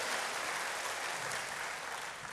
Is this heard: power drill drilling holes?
no